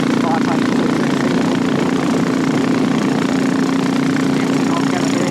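A customised 2017 Royal Enfield Classic 500 single-cylinder 500cc motorcycle with hard-mounted foot pegs runs steadily with a loud, continuous engine drone throughout, with no talk over it.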